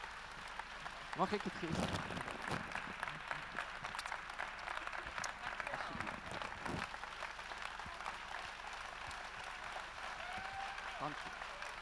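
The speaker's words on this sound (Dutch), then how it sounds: "Groot applaus voor Letty Demmers." Applause fills a political party congress hall in a farewell tribute to Letty Demmers, steady and moderately distant, with a few louder claps and people speaking close by over it.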